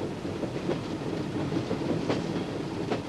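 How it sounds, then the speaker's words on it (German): A train travels steadily on rails, with a continuous low rumble and faint rhythmic clicking of wheels over track joints, moderately loud and without voices. "Am 9. April 1917 verlässt Lenin mit anderen russischen Emigranten Zürich mit dem Zug"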